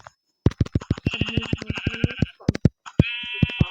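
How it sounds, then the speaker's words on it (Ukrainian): Sheep bleat in Minecraft amid a rapid, clicky series of game sounds, with wavering bleats rising above the tapping at moderate volume. "Вівця."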